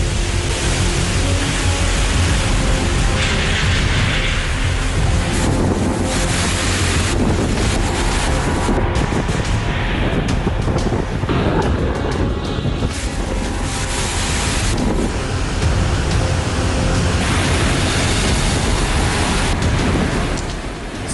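Storm-driven sea waves and gale winds lash the Bengal and Odisha coastline, a loud, continuous roar of surf and buffeting wind noise filling the whole stretch without a break and with no voices.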